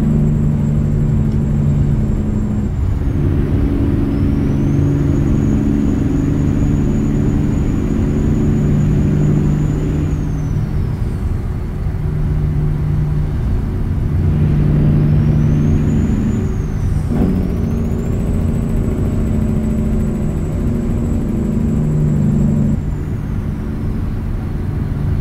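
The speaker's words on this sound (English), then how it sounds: "Jake brake." Jake brake on a truck in American Truck Simulator, a loud, low, continuous engine-braking rumble and drone with shifting pitch over a steady road roar, heard through an open cab window.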